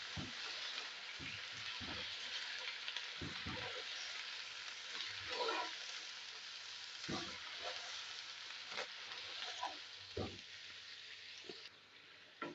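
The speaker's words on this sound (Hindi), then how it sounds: "यहाँ हम अच्छी तरह गोश्त की जो है वो बुनाई करेंगे प्याज के साथ।" Beef frying with onions in a pot sizzles faintly and steadily, broken by repeated louder stirring thuds and scrapes spaced irregularly throughout, with no voices.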